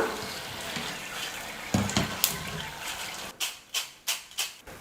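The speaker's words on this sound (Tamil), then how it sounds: "இருந்த எல்லா மாவையும் நான் எண்ணெயில் போட்டு பொறிச்சு எடுத்துக்கிட்டேன்" Rava snack dough fries in hot oil with a constant sizzling hiss, broken by a few sharp metallic scrapes and a run of rhythmic clinks near the end, close up and with no talking.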